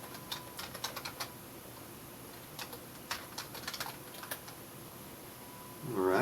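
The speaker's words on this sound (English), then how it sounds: "so I'm going to type in construction." Keys on a computer keyboard tapped in short bursts of quick clicks, typing a search word, close and fairly faint against a quiet background with a brief rise in noise at the end.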